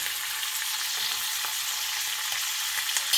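Hot oil sizzles and spatters steadily as curry leaves are tempered for coconut chutney. The crackle is dense, bright and even, with small pops scattered through it.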